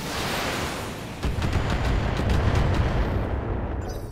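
A mech firing its weapons in the BattleTech video game: a sustained, rumbling volley of booms and rapid launches builds into a dense, loud barrage, with no voices over it.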